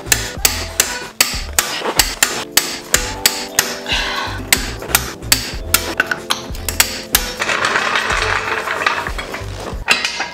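Repeated sharp metallic blows, about a dozen evenly spaced, ring out close and loud as an impact tool breaks loose wheel lug nuts on a 2016-2020 Chevy Colorado, ending in a denser rattling burst.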